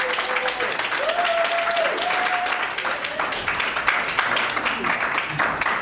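Wedding guests at a civil marriage in a town hall applaud right after the couple is declared married. The clapping is steady and moderately loud throughout, with a brief whistle or squeal early on and faint voices underneath.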